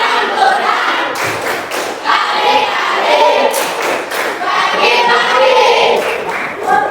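A group claps the rhythm of the 'tepuk matematika' clapping game, dense loud hand claps and thumps from many people mixed with crowd voices, close and continuous throughout.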